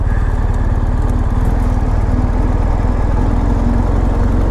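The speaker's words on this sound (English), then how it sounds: "lovely, lovely motorcycles." A BMW GS Rallye motorcycle engine runs steadily nearby in a parking lot, a loud, even, throbbing drone with no gaps or revving.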